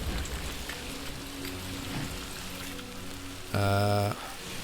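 Steady broadband rain hiss of timefall in the video game Death Stranding 2, continuous throughout, with a loud harmonic tone cutting in briefly near the end.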